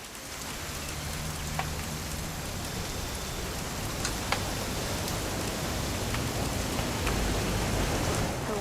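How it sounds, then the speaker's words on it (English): Steady rain falls throughout a weekend hunting trip in What Remains of Edith Finch, a constant hiss of drops on surfaces with occasional sharper drips standing out, even and unbroken from start to end. "It's gonna rain the whole weekend, isn't it?"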